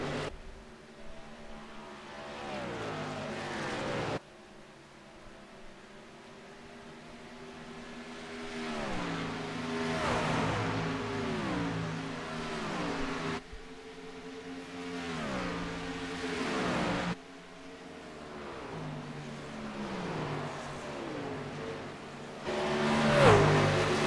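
Race trucks in a USRC Truck Series event roar past on a track, engines rising and falling in repeated passes, loud and continuous with no talk.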